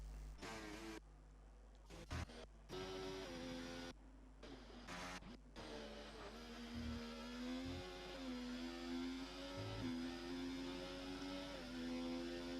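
A racing video game car laps the Canada circuit, its engine whine rising and shifting through gears with abrupt cuts and restarts, fairly quiet and steady.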